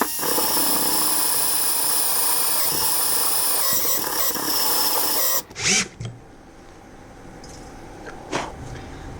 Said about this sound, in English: I'm going to have to bore out the hole to a bigger size using my Dremel